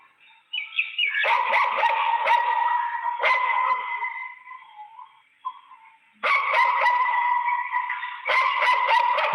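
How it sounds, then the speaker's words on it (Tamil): Dogs bark in loud, rapid bursts early in the morning at a residential house, sharp repeated yelps in two long bouts separated by a brief lull, close and unaccompanied by talk. "இதோ இந்த நாய்ங்கெல்லாம் கத்தி தான் தூக்கம் கலைஞ்சது"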